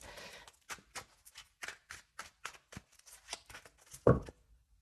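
Tarot cards riffled and shuffled by hand, a steady run of short papery flicks spread through the stretch, ending in one sharper snap near the close.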